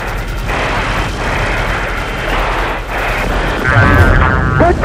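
Rapid weapon fire in a Star Citizen space dogfight, a dense rattling stream of shots with a few pauses, loud and close, ending in a brighter mechanical whine.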